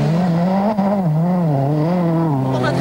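Peugeot 206 WRC rally car engine held at a steady, loud, wavering roar as the driver brakes and accelerates at the same time, heard close up from on board.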